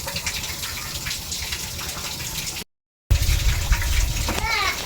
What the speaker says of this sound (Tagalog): Yan po yung patubig.